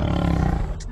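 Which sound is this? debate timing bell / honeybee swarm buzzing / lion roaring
lion roaring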